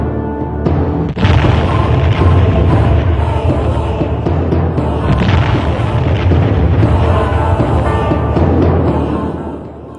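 Hydrogen bomb test explosion on a lagoon atoll, heard as a sudden massive boom followed by a sustained, loud, rumbling roar that holds for several seconds before fading slightly at the end.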